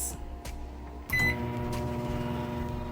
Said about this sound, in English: All right, so they're in the microwave. We're gonna put it on 3